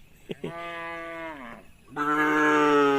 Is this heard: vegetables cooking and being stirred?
no